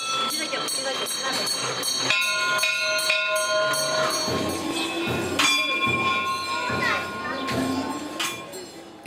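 At a Tibetan stupa, bells ring and chime repeatedly with long, ringing tones over soft drum thuds, amid a murmur of people nearby.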